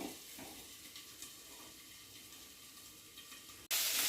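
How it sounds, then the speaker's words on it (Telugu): Bitter gourd frying in a covered pan, a soft, steady sizzle with faint clinks of stirring. A brief gap is followed by a louder burst of hiss near the end. "మధ్య మధ్యలో కలుపుతూ మూత పెట్టి ఒక 5 మినిట్స్ వేగనివ్వాలి కాకరకాయని"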